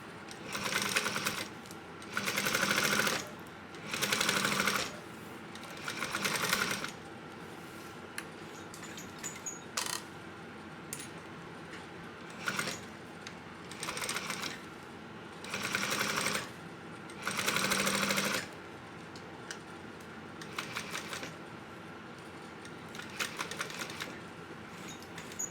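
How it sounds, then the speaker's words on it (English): A sewing machine stitches backpack strap connectors at an eighth-inch seam allowance, running in about eight short bursts of rapid chattering separated by quiet pauses and faint handling clicks, with no one talking. "We're gonna stitch these at 1/8 of an inch."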